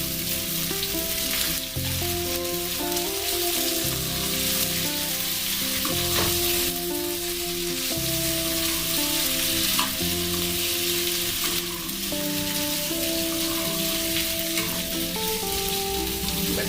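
Potatoes fry in a pan for a fasting-day potato bhaji and are stirred now and then. A dense, continuous sizzle holds steady and loud under a layer of background music.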